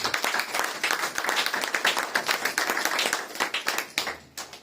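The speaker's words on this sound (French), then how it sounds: "J'aimerais que tu acclames pour la gloire de Jésus-Christ." A church congregation claps and applauds for Jesus Christ during a French-language sermon, with dense, lively hand clapping filling the room before thinning into a few scattered claps at the end.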